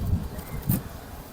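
A yellow-eyed Jaldar pigeon at a pigeon farm gives two soft, low coos in quick succession, faint and close, with no talk over them.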